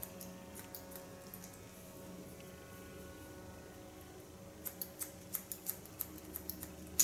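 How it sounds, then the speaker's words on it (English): Scissors slice-cutting hair during a salon haircut, faint soft snips that come in a quick close cluster near the end over a quiet room hum. "technique with closing my scissor slowly when I go in. So I push and I cut."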